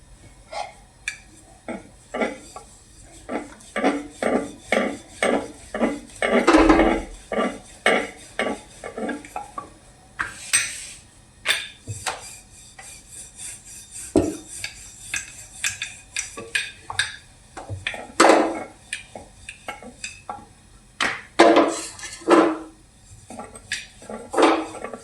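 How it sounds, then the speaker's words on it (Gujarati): A rolling pin works moringa-leaf thepla dough on a board, giving a series of rhythmic knocks and scrapes, close and fairly loud, with a few sharper clatters of utensils between strokes. "હવે આપણે આ થેપલા વણવાના છે."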